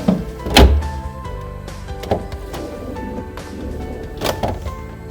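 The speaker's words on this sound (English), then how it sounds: "Now place the compartment on the rails and push into place until it clicks." Miele MasterCool fridge compartment pushed onto its rails until it clicks into place, giving a few sharp plastic-and-metal clicks and thunks spread over several seconds, close and clear with no talking.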